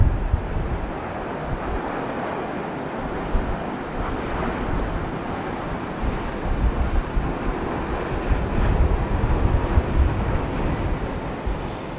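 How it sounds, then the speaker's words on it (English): A British Airways Boeing 777 jet at Heathrow in the early morning gives a steady, distant broadband roar mixed with wind buffeting the microphone, swelling slightly toward the end. "It's the big British Airways Boeing from Boston."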